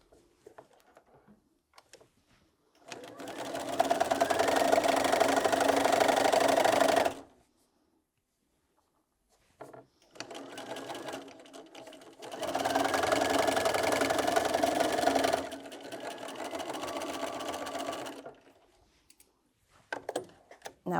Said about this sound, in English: then I'm going to sew them together